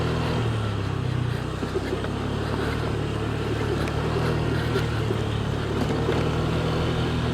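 A Honda Vario 125 scooter engine drones steadily while riding a damaged road at night. It is mixed with continuous road and wind noise and occasional jolts from the uneven surface, heard up close throughout.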